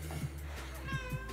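A cat meows in short, close calls over a steady low hum, with a faint voice underneath.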